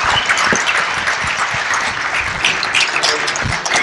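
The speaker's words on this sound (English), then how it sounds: "Big round of applause for our panel and for Lacey Book." Steady, loud applause from an audience at a philosophy panel event, with dense overlapping claps continuing throughout.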